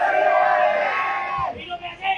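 A crowd of political supporters at a party registration event roars a slogan in unison, a loud massed yell that swells and then breaks off into scattered shouts.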